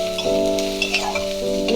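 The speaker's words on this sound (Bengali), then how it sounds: "পেঁয়াজটা ভেজে দেব" Onion frying in a pan for a Bengali kohlrabi dish, a steady close sizzle with stirring scrapes and a bright ringing tone from the utensil.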